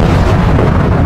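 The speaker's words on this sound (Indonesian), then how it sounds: "seketika serangan tersebut meledak di tangan Gui Myeondok yang sangat santai menahannya" An energy attack explodes in an animated fight, producing a loud, dense roaring blast that fills the whole short moment with no pauses.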